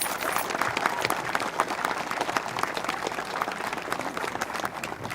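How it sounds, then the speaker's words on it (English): Audience applause for people standing at an event, a sustained burst of dense crowd clapping at moderate distance, steady throughout with no voices over it. "please give them a monstrous round of applause"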